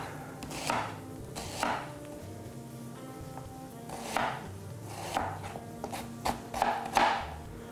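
A knife chopping leeks finely on a cutting board in a home kitchen, a series of crisp irregular taps in small bursts, close and fairly quiet, with no talking.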